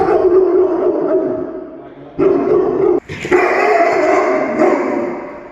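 A frightened, aggressive dog barks and yips in a kennel, loud and close, the barking continuing almost without pause and pushing harder near the end.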